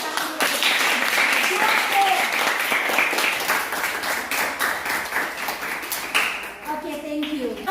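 Sustained applause from a classroom of children, dense clapping hands filling the room for several seconds, with a teacher's voice and kids chattering briefly over it.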